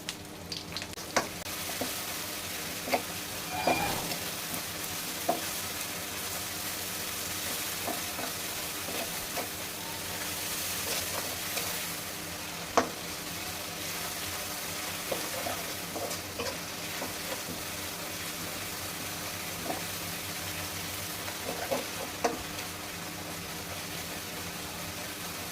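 Chopped ginger and onion with salt frying for mung dal, giving a continuous dense sizzle with a low background hum, broken by scattered clicks and scrapes of stirring, close and without talk.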